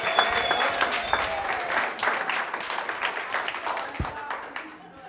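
Audience applause welcoming a speaker, Arzan Wadia, to the stage at a Zarathushti community talk: a steady crowd of clapping hands, dense and sustained throughout, thinning slightly toward the end.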